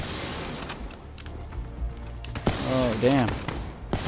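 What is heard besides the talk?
gunfire from enemies in the video game Black Listed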